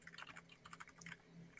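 Quiet keyboard typing at a film-festival commentary session, a steady run of soft, fairly close keystrokes with no talk over it.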